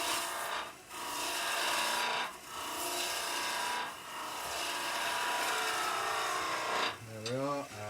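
Skew chisel cutting a deep V into spinning wood on a lathe, a continuous raspy scraping hiss with periodic dips as the tool is eased off, ending with a brief squeaky tonal chatter.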